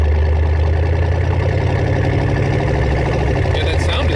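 A custom 1931 Ford truck with a carbureted Buick six-cylinder engine runs with a steady, deep, throbbing rumble heard up close and continuous throughout.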